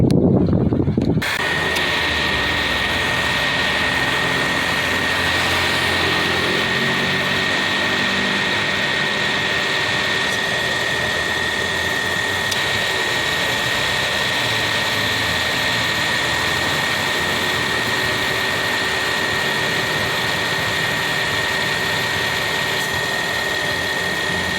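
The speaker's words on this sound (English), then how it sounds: "Okay, that's how the compressor works." A car engine runs steadily with the AC compressor engaged, giving a loud, continuous close drone with a high whine over it and no break.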